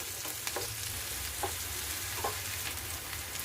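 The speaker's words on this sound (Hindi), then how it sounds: "उसके बाद इसे चलाते हुए हम गोल्डन ब्राउन होने तक हम इसे भून" Chopped onions fry in oil for an egg curry, browning toward golden with a continuous soft sizzle. Three quiet scrapes of a spoon stir the pan at regular intervals, with no talking.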